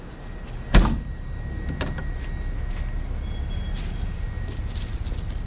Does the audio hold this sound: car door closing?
yes